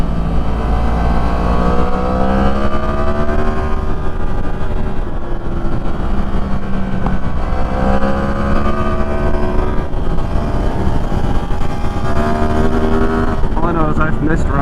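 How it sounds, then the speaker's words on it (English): A Yamaha MT-10 motorcycle ridden on a road, its engine droning steadily with rising and falling pitch as it revs through gears, close and loud amid heavy wind noise, with voices talking over it. "it feels so good to ride on this bike"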